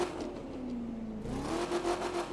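A car engine in the racing game The Crew 2 idles with a steady mid-pitched hum, then revs up around the midpoint and holds a higher, louder drone to the end, with no talk over it.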